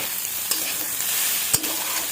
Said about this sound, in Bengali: এবার একসাথে সব নেড়ে দেবো।